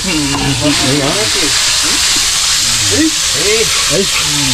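Food sautés in a hot pan with a loud, continuous sizzle and hiss close up, while several people chat and call out over the cooking.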